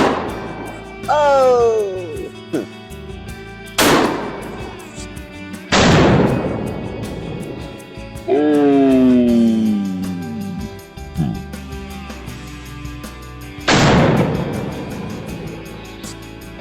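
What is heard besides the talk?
shotgun firing bird shot at a target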